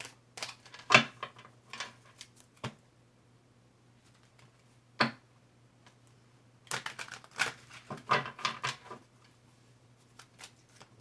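Cards being shuffled nearby in bursts of quick riffling and flicking, with scattered single snaps and pauses between, over a faint steady hum.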